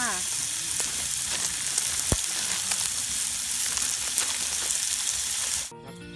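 Pork sizzles and spatters steadily on a hot Thai moo kratha grill pan at a campsite, a close, dense crackle with occasional pops, cutting off near the end.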